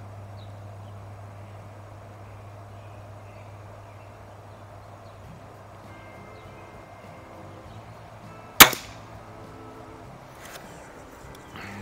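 A single sharp report from a Weihrauch HW50S air rifle firing an RWS Diabolo pellet during backyard plinking, heard once midway through against a quiet outdoor background with steady low hum.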